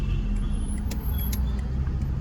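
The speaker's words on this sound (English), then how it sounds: "this car should move now" A car idles and moves on a street in Nigeria under a steady low rumble of traffic, with a few brief hissing bursts like air brakes.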